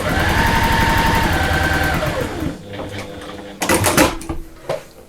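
A sewing machine stitches piping onto a bag piece. It runs as a loud, steady, rapid mechanical whir for about two seconds and then stops, leaving quieter clicks and handling noises.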